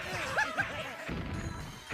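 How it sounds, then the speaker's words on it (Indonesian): King Glidon's airship crashes in Mega Man Legends 2, a short game sequence of sharp smashing impacts and metallic whooshes followed by a rumbling collapse. "Pesawat King Glidon pun hancur"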